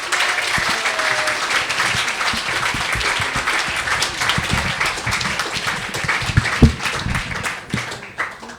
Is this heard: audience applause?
yes